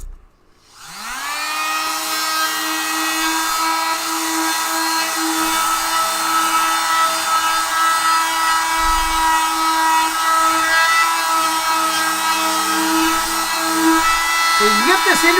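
A Fein power tool fitted with a sanding disc runs continuously, a loud steady high-pitched whine that holds for the whole stretch after a quick spin-up, with a faint voice briefly audible.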